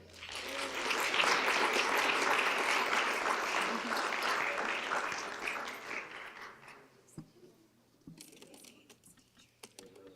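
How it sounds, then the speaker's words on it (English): A room of people applauds teachers at a school board of education meeting, loud and dense at first, then thinning into scattered claps and fading toward the end. "can we give these teachers another round of applause?"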